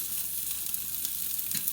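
An egg sandwich, just flipped over, fries in a pan with a steady, soft sizzle and faint crackles throughout, no voices.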